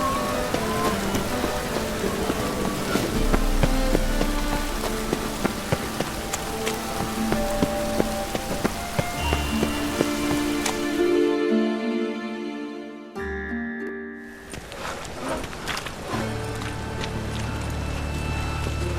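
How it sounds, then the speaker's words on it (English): Steady rain pours down in The Witcher game world, a dense hiss with scattered drop impacts broken by brief music swells and a short near-silent gap before the downpour resumes. "Raining again."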